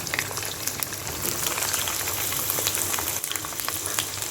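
Mango pieces fry in hot oil alongside eggplant for a mango-eggplant pickle, giving a steady, close crackling sizzle with scattered pops throughout.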